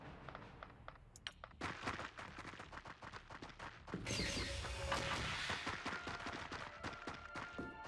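Gunfire in the Xenonauts 2 strategy video game, a string of sharp rapid shots and bursts with loud, dense crackling reports midway, close and without talk.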